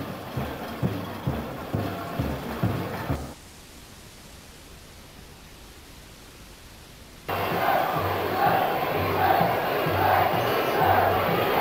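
An 18,000-strong crowd at a 1986 Young Boys Bern football match roars in a stadium, with rhythmic chanting at first, a stretch of faint hiss, then a loud, sustained wash of crowd noise.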